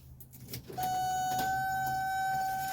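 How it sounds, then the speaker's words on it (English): A window on a 1982 Mercedes 300D rolls down, a steady electric motor whine with a clear tone that starts after a short rustle and runs to the end. "let me roll down the window"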